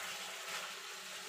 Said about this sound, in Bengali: এখানে আমি গরম জল দিচ্ছি, জলটা একটু বেশি লাগবে যেহেতু বড়ি আছে এখানে